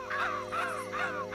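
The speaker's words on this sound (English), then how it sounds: "Crows!" Three harsh cartoon crow caws in a row from Winnie the Pooh, evenly spaced and fairly close, with a low steady hum underneath.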